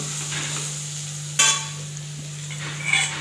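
Spices being stirred into Dubai pumpkin curry in a pan make a soft, steady scraping sizzle over a constant low hum, with two short louder scrapes against the pan.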